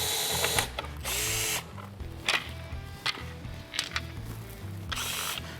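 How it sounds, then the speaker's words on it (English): A number 2 Phillips low torque screwdriver, likely powered, removes side plates on a Lowrance Recon trolling motor, sounding as several short buzzing whirs with ratcheting clicks and handling knocks between them, close up. "next, we're going to remove our side plates with our number 2 Phillips low torque screwdriver."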